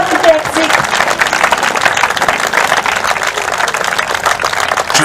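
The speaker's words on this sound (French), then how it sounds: "Est-ce qu'on peut applaudir le Saint-Esprit?" A crowd at an outdoor church service in Madagascar applauds continuously, dense clapping with no break for several seconds, loud and close, with voices mixed in.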